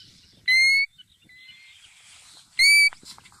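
A golden plover calling, two clear, plaintive whistled notes spaced about two seconds apart, loud and distinct against a quiet background.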